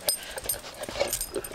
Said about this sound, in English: the dog thinks he might like to try one